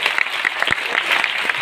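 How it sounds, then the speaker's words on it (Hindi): An auditorium audience breaks into loud, dense clapping for first-time attendees, a brief unbroken burst of many hands. "एक बार जोरदार तालियां इन सभी के लिए।"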